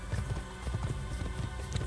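Rapid, steady clip-clop of hooves at a gallop in the video game Assassin's Creed, close and continuous for the whole stretch, with no voices.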